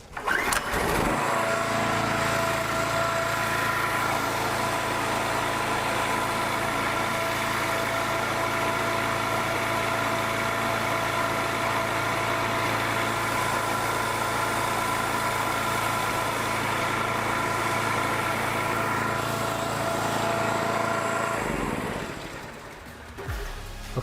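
A small engine mounted on a homemade dynamometer starts up and runs at a steady, loud drone for about twenty seconds, then cuts off abruptly near the end.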